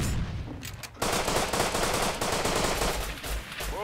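Rapid bursts of automatic gunfire fill a video game firefight, loud and nearly continuous with dense overlapping shots after a brief lull in the first second.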